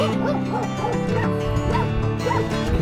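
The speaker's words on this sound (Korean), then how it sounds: "개들이 짖고 있는데 무섭네 왜 짖고 있을까" Several dogs bark and yelp continuously near a snowy mountain trail in Georgia, a loud overlapping chorus of yips and whimpering barks with no pause.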